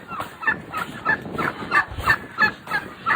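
A flock of Big 6 and bronze turkeys on a farm gobbles loudly and close by in a quick series of about eight bursts, each roughly half a second apart, with no talk.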